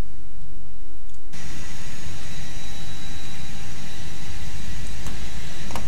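A320 airliner engines running while taxiing in the Prepar3D flight simulator, a steady loud broadband roar with a sustained whine that kicks in abruptly after a quieter start.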